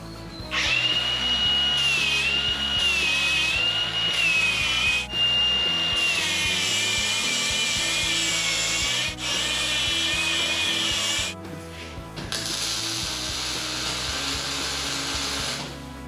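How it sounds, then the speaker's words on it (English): An angle grinder taking rough material off wood, a loud continuous high whine with a gritty rasp, close by, dipping briefly when the tool lifts off near the middle and again toward the end, no voices. "Just take a grinder. It ain't gotta be perfect."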